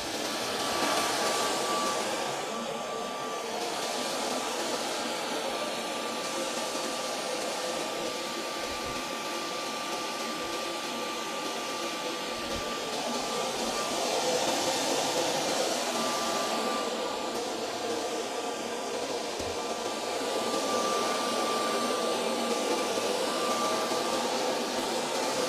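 Homemade coffee roaster running with its heater on, blowing air in a steady broadband rushing hiss with a faint tonal hum, moderately quiet and unbroken.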